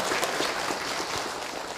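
An audience at a religious lecture gives a short burst of applause, quiet and crackling for under two seconds.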